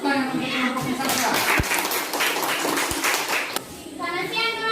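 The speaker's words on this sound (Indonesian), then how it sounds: "Kita berikan tepuk tangan" Children in a classroom clapping for a student group about to present its discussion results, a dense burst of applause mixed with young voices chattering and talking over it.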